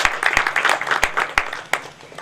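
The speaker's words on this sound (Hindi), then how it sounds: "तालियां चाहूंगा एक बार जोरदार।" An audience at a company branch inauguration ceremony claps in a brisk burst of applause, with sharp individual claps standing out as the clapping thins toward the end.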